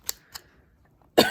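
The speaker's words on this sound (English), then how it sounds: "now I'm going to start coughing again" A couple of short, sharp coughs, then a louder, rougher burst of coughing at the end.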